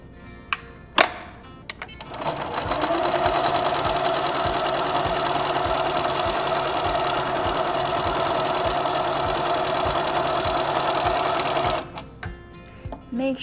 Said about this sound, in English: you'll want to backstitch over this middle portion just to make sure everything is secure there